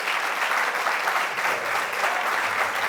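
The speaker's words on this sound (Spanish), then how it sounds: "Así es que les pido un gran aplauso para Gabriel y para Álvaro." A debate audience applauds, with steady dense clapping filling the room for a few seconds.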